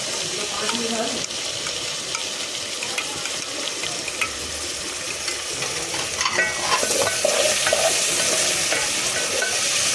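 Steady crackling sizzle from chopped tomatoes with ginger-garlic paste frying in a hot pan, with intermittent stirring and scraping, continuous and fairly close.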